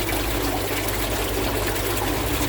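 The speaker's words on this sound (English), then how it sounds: "I'm only flushing the filter through once." Water flushing steadily through an aquarium filter in a tank with green water, a continuous close, loud trickling and pouring wash with no pauses.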